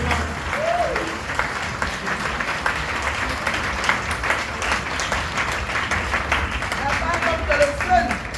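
A church congregation breaks into sustained applause and clapping in praise of the Lord, a dense crowd sound that continues throughout with voices mixed in.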